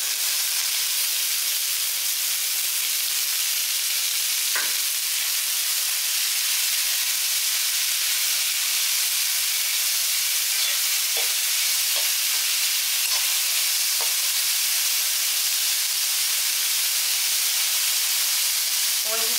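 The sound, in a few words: onions and legumes being sautéed in oil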